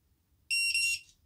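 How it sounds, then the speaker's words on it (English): Two short high-pitched electronic beeps in quick succession from a Bluetooth tracker in a tactical wallet as its button is held down, clear and close against near silence. "You get 2 beeps."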